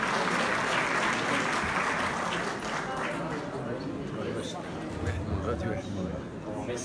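Audience applause at a 2019 women entrepreneurs' awards ceremony, a dense sustained ovation filling the room throughout, easing slightly midway, with some voices mixed in under the clapping.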